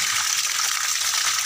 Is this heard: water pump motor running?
yes